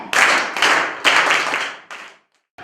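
Students in a classroom clap together in a few loud, close bursts of rapid hand claps, each fading before the next begins, then a short silence and a final brief burst.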